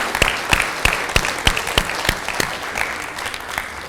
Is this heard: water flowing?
no